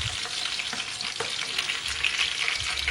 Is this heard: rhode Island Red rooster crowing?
no